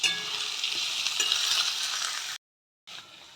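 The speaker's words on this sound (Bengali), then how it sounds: "লঙ্কা, ক্যাপসিকাম, এগুলো সব ভেজে নেব।" Chilli, capsicum and bell pepper fry in a pan with a loud, steady hiss and crackle close by, broken by a brief cut to silence before the sizzle resumes, with no talk.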